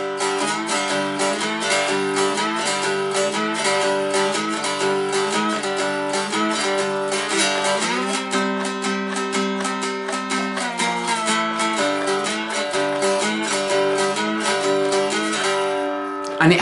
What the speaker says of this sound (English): So then first 2 lines now sound like this.